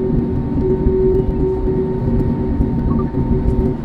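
Cebu Pacific airliner on the ground at Manila airport just after landing, a steady loud cabin rumble of engines and rolling with a faint constant hum, no speech over it.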